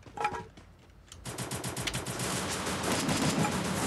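Video game gunfire starts after a short quiet stretch, then rattles on as dense, continuous automatic bursts with no voices.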